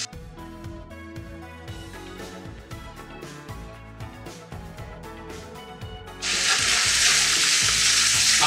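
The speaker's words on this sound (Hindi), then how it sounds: "अब मैं इसमें नूडल्स ऐड करूंगा।" Noodles stir-fried with vegetables for chicken chow mein, with a soft clatter of stirring before a loud, steady sizzle bursts in near the end as the noodles hit the hot pan.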